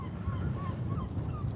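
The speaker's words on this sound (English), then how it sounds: "Can you hear the seagulls?" Seagulls at the seaside in Largs, Scotland, let out several faint, thin calls spaced through a low background rumble of wind and water.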